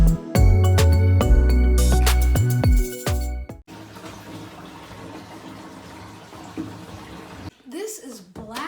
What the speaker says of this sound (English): We're adding all the water.